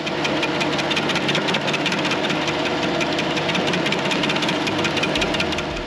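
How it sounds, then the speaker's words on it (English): Kubota SCL1000 stand-on compact loader fitted with an SSG 2024 stump grinder attachment, its engine running at a steady, loud drone with constant vibration and no pauses. "the SCL1000, equipped with the SSG 2024 stump grinder attachment"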